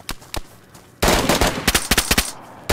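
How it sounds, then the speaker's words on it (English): Gunfire in the survival video game DayZ: two isolated sharp shots, then a rapid burst of loud, closely spaced rounds ending in a few separate cracks, with no talk over it. "Oh, that was you shooting."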